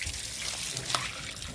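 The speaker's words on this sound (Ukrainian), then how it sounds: "Це я наповняю воду, зараз буду прати все." Water runs from a tap to fill a container for washing, a close trickling and splashing stream with one brief louder splash partway through.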